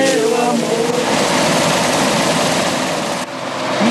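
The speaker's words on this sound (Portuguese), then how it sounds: "é o coro dos motores o que mais se ouve no campo agora" Farm machinery engines in a field drone steadily together, a broad mechanical hum with a higher whine on top, continuous and fairly close, briefly dipping near the end.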